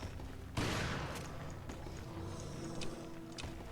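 Gunshots in the video game Resident Evil Revelations: one sharp blast followed by a few fainter reports and echoes, set against a low ambient background.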